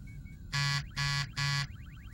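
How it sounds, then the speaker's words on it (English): Three loud, harsh electronic buzzes in even succession, each lasting about a quarter second, over a faint background hum. "enough with the buzzer"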